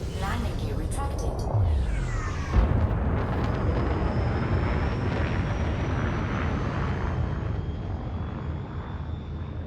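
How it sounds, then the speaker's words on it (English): A spaceship's landing gear retracting in the space game Elite: Dangerous, with mechanical whirring and clunks early on, including one heavy thunk, followed by a steady roaring engine hum and a thin tone, while a voice speaks over it. "Landing gear retracted."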